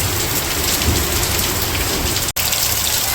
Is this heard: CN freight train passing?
no